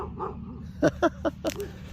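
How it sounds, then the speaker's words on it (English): A poodle gives four or five quick, high yappy barks in a short irregular burst, close by, with a faint steady hum underneath. "Check out his poodle."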